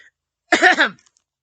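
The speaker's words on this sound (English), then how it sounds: "coughed politely" A single short, soft cough, like a polite throat-clearing, alone in silence.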